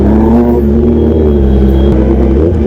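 A Kawasaki ZX-10R motorcycle engine revs loud and close in a steady, harmonic-rich rumble that rises slightly, with no talk over it.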